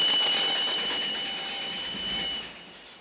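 A train passes in a late-1960s Italian film sequence with a piercing, sustained shriek that is loud at first and fades toward the end.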